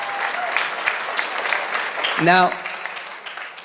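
A church ministry audience claps together in a burst of dense, loud applause that fills the room, then fades as a voice starts speaking.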